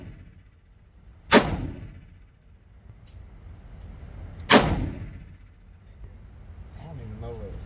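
Two loud revolver gunshots ring out about three seconds apart outdoors at a shooting range, each a sharp crack with a booming tail, and people talk quietly between them.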